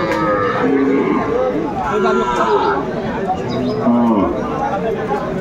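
Dairy cows and calves at the Aftabganj cattle market in Dinajpur, with several long, close moos rising over constant crowd chatter and people talking nearby.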